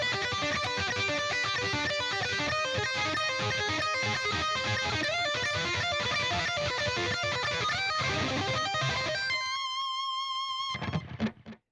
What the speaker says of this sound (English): it even sounds cooler when we add distortion